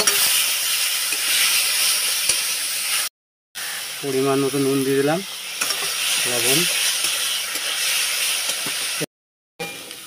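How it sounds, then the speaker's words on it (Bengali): Chicken sautéing in a pan gives a steady, close sizzle and hiss that runs underneath a person talking, with brief gaps of silence. "তো আমি চিকেনটা দিয়ে দিলাম। চিকেনটা একটু আমি কষে নেব।"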